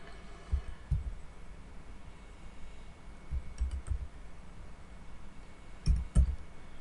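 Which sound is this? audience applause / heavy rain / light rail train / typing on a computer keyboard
typing on a computer keyboard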